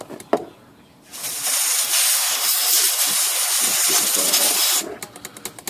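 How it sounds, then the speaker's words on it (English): Compressed air blasts through the mechanism of an Adler Satellite 2001 electric typewriter after a light lube, a loud steady hiss lasting several seconds, with faint handling clicks before and after. "I'm going to finish it off with some super light lube. And I'm going to blow that through."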